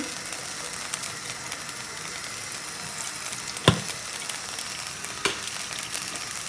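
Oil frying in a pan for tempering cabbage, a quiet, steady sizzle with faint scattered crackles and a couple of brief sharp clicks, heard alone without talk.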